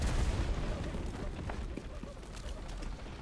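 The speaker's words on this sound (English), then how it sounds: "That is definitely an MG of some sort." Machine gun fire in the World War II shooter game Enlisted, a continuous dense rattle of rapid bursts mixed with booming explosions and battlefield rumble, loud and sustained throughout.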